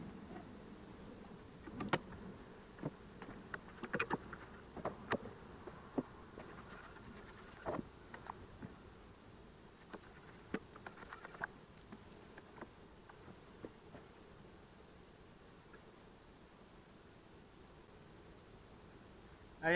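Honey bees at an opened hive hum in a soft, steady buzz, with occasional individual bees droning close by and faint handling clicks. The buzz is quiet and continuous, and no voices are heard.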